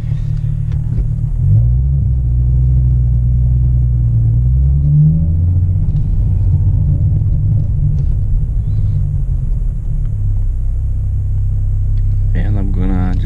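A 2017 Ford Mustang cruising with a repaired exhaust gives a deep, steady low rumble from inside the car, and a person talks over it.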